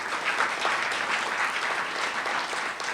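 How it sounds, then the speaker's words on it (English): An audience applauds an award winner at a research and innovation showcase, with steady, dense clapping that holds at an even level throughout and no voices over it. "a big round of applause for Jonah"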